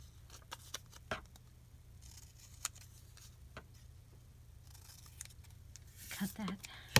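Scissors snipping through paper photos for a Happy Planner memory-keeping spread, with a few quiet, scattered cuts and light rustling amid a soft background hum, ending in a sharper crunch.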